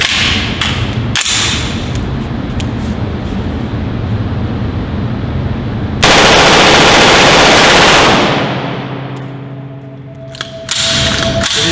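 An AR-15 rifle chambered in 5.56 fires on full auto, a loud sustained stream of gunfire broken by a brief pause and then a burst, with reverberation fading afterward.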